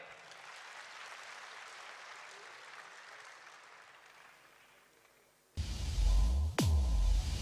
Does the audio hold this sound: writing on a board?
no